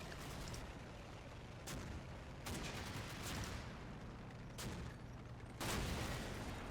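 Mortar shells landing in a military video game, a run of distant booming impacts spaced a second or two apart over a dense, noisy rumble.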